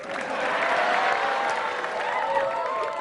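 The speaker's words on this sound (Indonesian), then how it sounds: "Sekali lagi tepuk tangan buat saya." An audience at a stand-up comedy battle applauds a comedian, a fairly loud spread of clapping that swells and holds across the moment, with faint voices threaded underneath.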